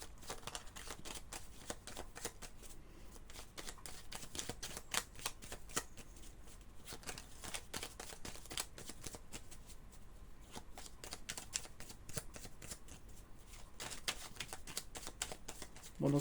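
Tarot cards are shuffled by hand in rapid, crisp riffling bursts, close and fairly quiet, continuing steadily with no talk.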